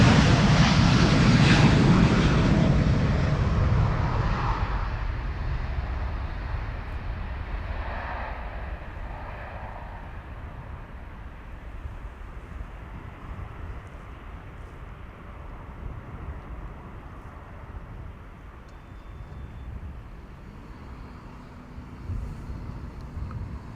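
A KLM Boeing 787-10 departs from the Polderbaan runway at Amsterdam Schiphol, its jet roar loud at first and then fading steadily into a distant rumble as the aircraft climbs away.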